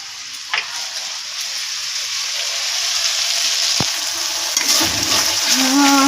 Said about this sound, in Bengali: রান্না বান্না হচ্ছে, মশলাটা কষানো হয়ে গেছে।